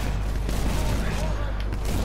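Rapid gunfire rattles through wooden walls in a shooter video game, a loud, dense burst of shots and impacts over low rumbling, with a voice talking over it.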